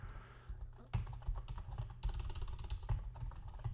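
Rapid computer keyboard typing, a steady stream of close, crisp key clicks with brief pauses and bursts of faster strokes.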